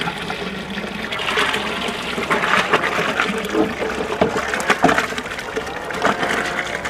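Water sloshes and swirls in a drum as 180 litres are filled and stirred with boiled organic pesticide liquid, a loud, continuous churning splash with irregular surges.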